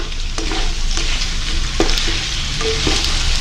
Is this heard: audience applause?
no